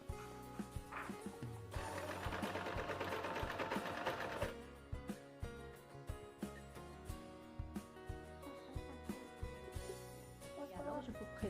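A domestic sewing machine stitches the sleeves of a witch costume to its cape, running in a steady whirring burst, then continuing as quicker rhythmic stop-start ticking of the needle, close and fairly loud.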